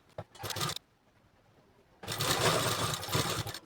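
A sewing machine stitching a strip of blouse fabric, a loud, close whirring run of needle strokes in two bursts, a short one, then a pause and a longer one, with no talking.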